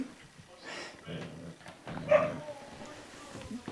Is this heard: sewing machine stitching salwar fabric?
no